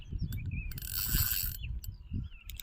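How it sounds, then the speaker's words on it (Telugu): A fishing reel's spool spins and clicks steadily as a fish pulls hard on the line, a continuous whirring ratchet with a brief louder surge in the middle, close to the microphone. "మిషన్ గిర్రం తిరుగుతుంది ఆగనేసలేదు కదా"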